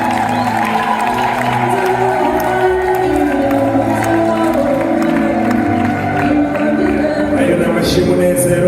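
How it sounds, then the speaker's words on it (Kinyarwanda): Crowd at a family celebration in Rwanda applauding and cheering for the parents, a loud, dense, sustained wash of clapping, shouts and voices close by, continuing throughout. "Ayo ni amashyi y'umunezero"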